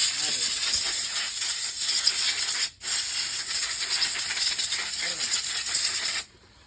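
Petrol spraying under pressure from the fuel pump of a Jupiter 125 BS6 scooter, a loud steady hiss that cuts off briefly, resumes, then stops abruptly.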